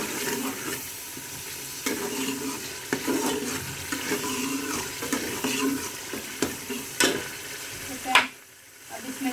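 Masala and tomatoes fry in a pan for a Murgh Daal recipe, a continuous broadband sizzle with scraping stirring strokes and a brief loud clatter before it quiets.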